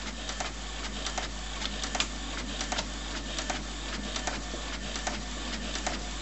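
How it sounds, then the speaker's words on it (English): HP Photosmart C4485 inkjet printer printing a page, a steady mechanical whir with a regular series of short clicks and ticks from the print head moving back and forth, close and alone. "and there it is printing out again"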